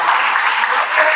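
Church congregation applauding during a Spanish-language service, a steady dense wash of clapping with no pause for its whole short length.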